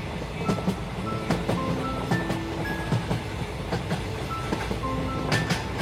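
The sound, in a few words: train running, sound effect in a cartoon story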